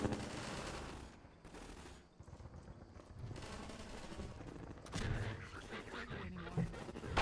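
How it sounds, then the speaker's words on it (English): Rapid bursts of gunfire and artillery blasts from the Combine in the video game Half-Life 2 VR, dense and continuous across the scene with louder impacts near the end. "The Combine are shooting them through canisters and artillery at us."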